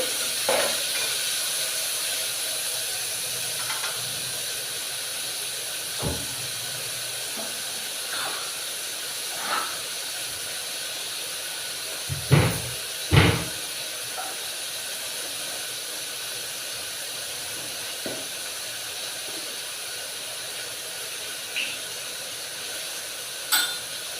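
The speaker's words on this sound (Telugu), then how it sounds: "ఇవి రెండు ఉల్లిపాయలు గుండెగా తరిగి పెట్టుకోవాలి ఇవి ఎర్రగా వేయించుకోవాలి" Two chopped onions fry in a pan for a broad bean and tomato curry, giving a steady soft sizzling hiss with scattered small pops and crackles throughout.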